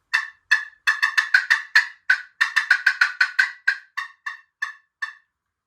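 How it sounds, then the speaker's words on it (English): A wild turkey hen gives an excited cutting call: a loud, close run of about twenty sharp, irregular clucks. They come fast and bunched, then slow and spread out toward the end, with no other sound. "that's that hen getting excited. All right. So cutting."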